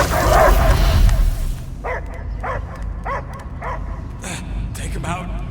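A dog in the Guardians of the Galaxy video game gives a series of about eight short, evenly spaced yelping barks after an opening stretch of heavier noise, near and fairly loud.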